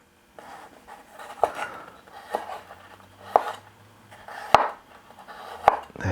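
Raw ginger being peeled against a blade on a board: a series of sharp scraping clicks and taps at irregular intervals, close and fairly quiet, with no talking.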